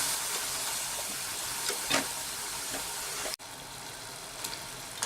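Nachos deep frying in hot oil until crispy, a steady close hiss and sizzle with faint bubbling crackles, briefly cutting out for an instant before the frying noise resumes, no talking.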